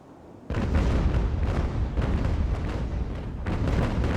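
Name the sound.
cannon fire with canister shot in Ultimate Admiral: Age of Sail video game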